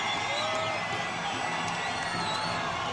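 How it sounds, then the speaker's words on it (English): A fight crowd cheers loudly for Gina Carano in her bout against Rosi Sexton, a dense, sustained roar of shouts and whoops filling the arena. "as you can tell, the crowd loves Gina Carano"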